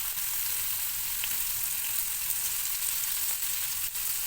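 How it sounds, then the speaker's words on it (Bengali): Lightly cut tomato pieces frying in a pan, a steady soft sizzle with faint crackles and occasional small pops, close by and with no talk. "টমেটো কেটে নিয়েছি, হ্যাঁ, এটা একদম হালকা করে ভেজে তুলে নেবো"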